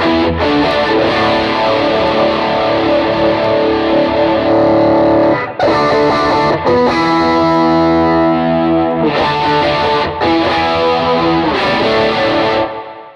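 Electric guitar with gain running through a micro pitch pedal on a praise and worship pedalboard, playing a loud, steady stretch of distorted, doubled-sounding chords and notes with brief breaks between phrases, no talking.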